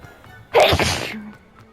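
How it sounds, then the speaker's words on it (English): A single sharp human sneeze bursts out close and loud after a quiet moment, then fades quickly into low background. "I'm gonna sneeze a lot in this"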